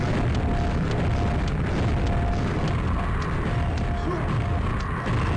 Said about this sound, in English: Wow, that's a lot of grenades.